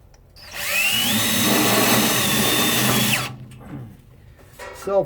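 A power drill drives a self-tapping screw in a garage while stoves are being changed: one steady whirring run of about three seconds, rising in pitch as it spins up and stopping abruptly, with quieter handling noises and a brief voice afterward.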